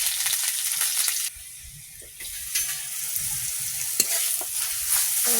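Chopped onion frying in a pan for a Bengali fish curry, bright sizzling with scraping and clattering stir strokes, the hiss dropping briefly before returning with sharp clicks of a utensil against the pan.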